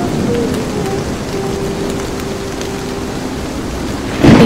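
Heavy rain pours steadily during a storm, with a low rumble of thunder underneath and a louder burst of rain or thunder near the end.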